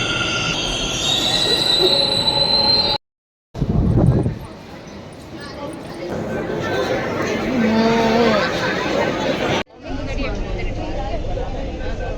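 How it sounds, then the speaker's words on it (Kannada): A metro train rumbles and screeches through a metro station in Bengaluru, with high-pitched wheel squeal and loud rolling noise broken by brief cuts, while people chatter nearby. "ನಾವು ಮೆಟ್ರೋನಲ್ಲಿ ಇದ್ದೀವಿ ಅಂದರೆ ಸ್ಟೇಷನ್ ಮೆಟ್ರೋ ಸ್ಟೇಷನಲ್ಲಿ ಇದ್ದೀವಿ"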